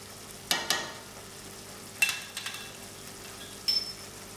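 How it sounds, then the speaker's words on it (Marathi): Ground masala paste for drumstick curry frying on a low flame, a quiet sizzle under a few sharp stirring scrapes and spoon clinks spaced across a few seconds, no voices. "आता वाटण सतळून घेऊया मंद आचेवरती।"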